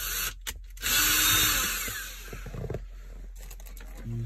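Short whirring bursts from a power screwdriver come up close as screws are backed out of a Dodge Grand Caravan dashboard panel, with faint clicks and handling between.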